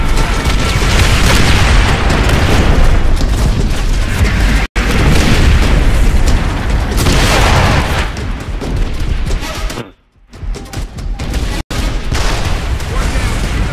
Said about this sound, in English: No, blow up the tanks. Blow up the tanks.